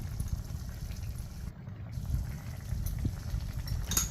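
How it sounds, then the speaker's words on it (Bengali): Potatoes simmering with mustard and poppy seed paste for aloo posto bubble steadily in a pan, a soft, continuous low burble with no talking. "পোস্তটা দিয়ে একটু ফুটিয়ে নেব। সর্ষের পোস্তর সাথে একটু ফুটে যাক ভালো করে।"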